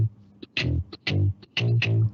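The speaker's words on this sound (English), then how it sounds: "Overdriven power chord sounds good." Overdriven electric guitar power chords from a BandLab software preset, played in several short, loud, distorted stabs with brief gaps between them, heard alone with no talking.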